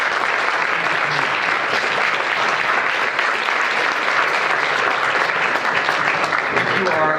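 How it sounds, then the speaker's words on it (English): Dense, steady applause from a debate competition audience honoring the teams and competitors at a round robin final, sustained and loud throughout with no break. "I hope you will give me one more round of applause for all the teams and all the competitors."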